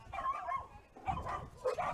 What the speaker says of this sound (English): hearing the bark in the park back there? That's 2 dogs going at it there.